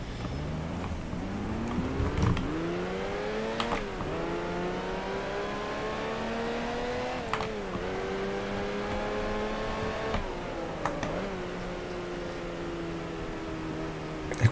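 A Ferrari sports car engine in the racing game Grand Prix Legends, on the Kyalami circuit, drones steadily with rising revs through repeated gear changes, and each shift briefly breaks the whine before it climbs again. It plays alone and fairly quietly.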